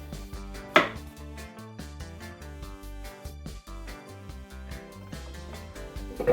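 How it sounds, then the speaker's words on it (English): Green plantain chopped with a knife, a fast, even series of close, sharp cuts on a board running throughout over a low steady background, with no talking. "We got a green plantain here. So what we're gonna do, we're gonna chop that up."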